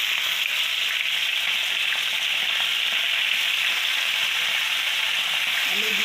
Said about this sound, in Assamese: আৰু এইফালে মই এই মাছ ধুনীয়া কৰি ভাজি ল'ম।